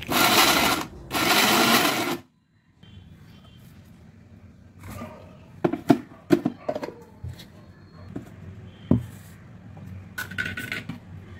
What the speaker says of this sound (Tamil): இந்த கறியையும் போட்டு நல்லா நைஸாக அரைச்சி எடுத்துக்கலாம்.